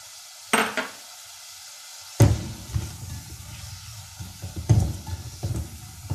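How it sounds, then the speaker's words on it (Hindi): Two medium-sized onions fry in oil left over from frying chicken, giving a steady close sizzle broken by three sharp utensil knocks or scrapes against the pan and a few softer stirring clatters, with no talking. "इसी ऑयल में 2 मीडियम साइज प्याज जो है इनको लाल करेंगे"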